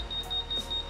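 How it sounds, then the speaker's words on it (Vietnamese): Anti-theft alarm on a Honda Vario motorcycle, a thin steady high-pitched tone chopped into quick repeating beeps over a low hum, fairly quiet and close. "5 giây hoặc 10 giây sau nó sẽ bị kêu báo động lên là trộm"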